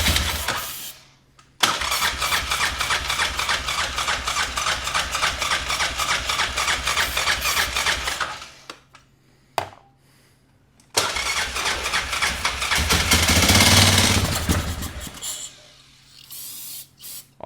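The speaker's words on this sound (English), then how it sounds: "It sounds like the starter is hanging up or something." An old four-wheel-drive ATV engine cranks hard for a long, loud stretch, then cuts out. After a brief pause it cranks again with a rough, grinding starter that sounds like it is hanging up. It is close and harsh, with no voices.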